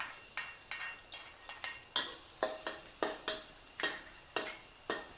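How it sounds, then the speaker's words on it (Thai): Garlic frying in oil in a pan while a metal utensil stirs it, giving a dozen sharp, evenly spaced scraping clanks over a faint background sizzle, close and with no talk. "เจียวกระเทียมให้เหลืองหอมเลย"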